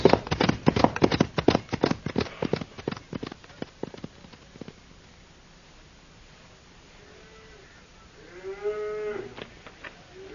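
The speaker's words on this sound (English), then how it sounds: "Yeah, these cows look mighty thirsty, Bull." In an old-time radio drama, dense clatter of hooves and rustling at first, then a quieter stretch before thirsty cattle moo a few times, the lowing rising and falling near the end.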